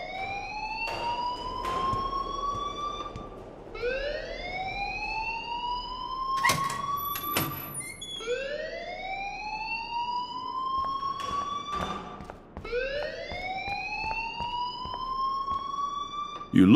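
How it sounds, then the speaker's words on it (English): In the Life Is Strange video game, an electronic alarm rings loudly in repeated rising sweeps, each swelling over about two seconds. Brief clanks interrupt it now and then, and no one speaks over it. "please turn off that alarm since that's your job"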